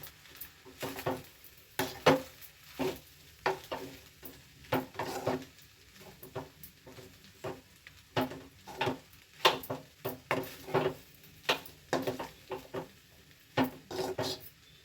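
Vegetable fried rice stirred in a pan after vinegar is added: a series of quiet, irregular scraping and clinking utensil strokes against the pan, close up, with no talking.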